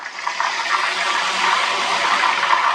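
Ghevar batter poured a little at a time into hot oil over a medium flame, giving a dense, continuous rushing sizzle and bubbling that swells slightly as it goes on, close and fairly loud, no speech.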